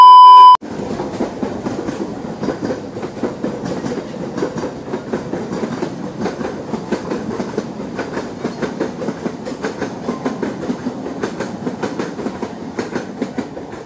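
A train pulls out of a railway station in India, bound for Gudur toward Chennai, its wheels giving a steady, loud clickety-clack over the rails after a brief beep at the start, with no talk.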